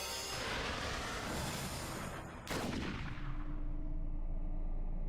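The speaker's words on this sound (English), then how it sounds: "A gunshot rang out from Tatano's gun, but it was a wild shot" Gunshot in the 428 Shibuya Scramble video game: one sharp, loud crack bursts out of a dense, noisy backdrop partway through, then a lower rumble lingers.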